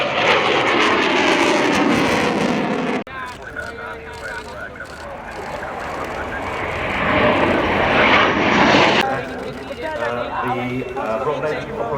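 An F-4 Phantom jet at an air show roars loudly and steadily, the engine noise swelling and shifting over several seconds, with people talking at points.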